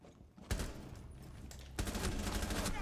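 Loud gunfire in the video game Rainbow Six Siege arrives as sharp shots and rapid bursts that continue through the short stretch, close and dense.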